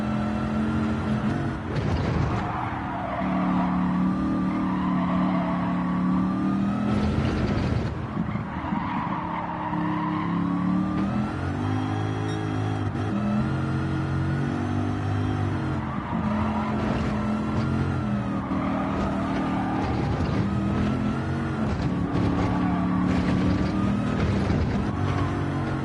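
Supercharged car with 618 pound-feet of torque at the rear wheels, engine roaring steadily under hard acceleration with shifting pitch and brief tire squeal, loud and close throughout.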